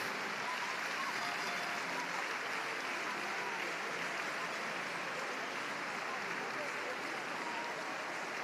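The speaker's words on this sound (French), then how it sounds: "Merci, messieurs, dames, de faire du bruit et d'applaudir à tout ce petit monde" Audience applause during the prize ceremony of a Cesta Punta tournament final at Saint-Jean-de-Luz, a steady even wash of distant clapping with talk faintly underneath.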